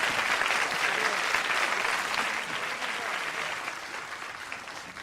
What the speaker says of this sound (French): Que tout le monde se lève et applaudisse le commandant